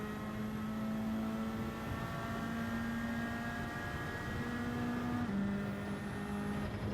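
A Nissan Silvia S15 engine in Gran Turismo 7 drones steadily at high revs, with a sustained tonal whine that shifts pitch slightly, like a race car running flat out.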